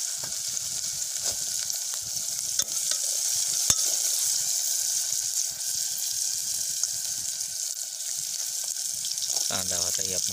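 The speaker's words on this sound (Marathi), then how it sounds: "तेलामध्ये थोडं तळून घ्यायचं आहे म्हणजे मऊसर होतं." Onion and potato fry in oil with cumin, ginger and garlic for khichdi cooked outdoors on a farm, making a steady close sizzle with occasional stirring scrapes and a sharp clack.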